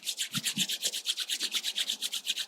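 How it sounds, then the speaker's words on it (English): Palms rub briskly together in a fast, even back-and-forth rhythm, about twenty close, dry swishing strokes with no talking. "Rub the palms."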